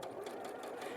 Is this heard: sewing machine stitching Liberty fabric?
yes